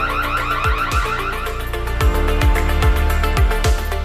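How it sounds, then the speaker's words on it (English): A smart fingerprint door lock's security alarm blares loudly, a siren-like electronic wail with repeating warbling tones and sharp sweeping chirps, sounding continuously and alone. "Perfect and safe sound alarm."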